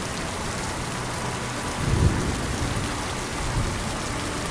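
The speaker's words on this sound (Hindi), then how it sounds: "बारिश और तेज हो गई।" Steady heavy rain hisses throughout, with a low rumble of thunder swelling around the middle and another softer roll near the end.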